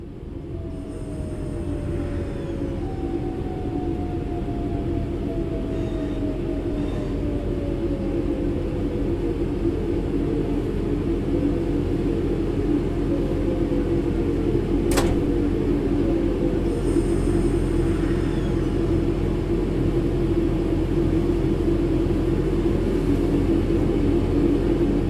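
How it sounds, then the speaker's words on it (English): A train coasting on level ground in Train Sim World 4: a steady low rumble and hum of the locomotive runs continuously with faint descending tonal whines and a brief sharp click midway. "The train will then coast on level ground, and the train will only slow down very gradually."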